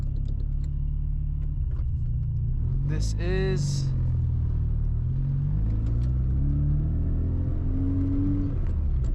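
Low engine rumble inside a Mazda FC RX-7 fitted with poly mounts, a steady droning hum with a brief rev swell midway, while someone talks over it.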